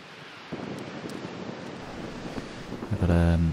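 Wind blows across the microphone on a beach during sea fishing, a steady rushing roar with gusts that grow stronger toward the end, and a voice speaks faintly underneath.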